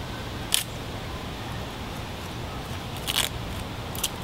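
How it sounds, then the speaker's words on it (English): A beech leaf torn by hand outdoors on a hike, giving three short papery rips spaced a few seconds apart, close and fairly crisp against quiet background. "when you rip a beech leaf, it actually sounds like ripping paper"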